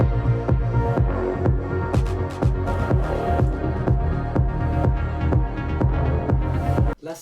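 An electronic track drop carrying a bright Serum pluck synth over thumping kick and bass, dense and loud for several seconds before cutting off abruptly at the end, with no voices.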